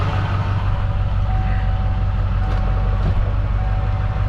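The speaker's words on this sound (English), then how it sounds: "You hear the injector timing change." A 7.3L Powerstroke diesel truck engine runs steadily up close, a low, continuous rumbling clatter with a faint whine above it, the injector timing shifting partway through with no voices.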